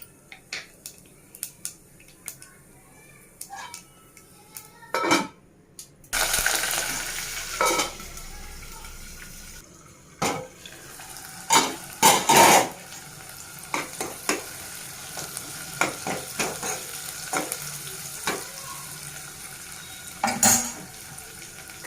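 Mustard seeds, cumin and fenugreek hit hot oil for an Andhra tomato rasam tempering, giving a close, crackling sizzle with sharp spoon scrapes and clinks against the pan at irregular intervals.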